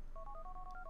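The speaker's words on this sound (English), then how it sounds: "So dial a number with your phone." Phone dialing tones from the video game GTA 4 sound as a quick run of about eight short, clean two-note beeps, faint and alone.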